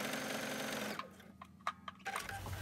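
A sewing machine stitches quilt fabric for a quilt-as-you-go log cabin table topper, running steadily at close range for about a second, then stopping, followed by faint handling clicks and taps.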